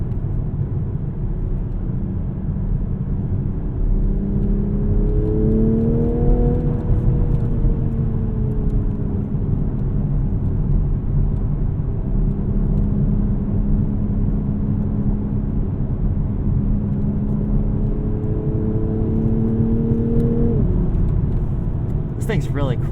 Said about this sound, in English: Yeah, nice little burbles from the rear end.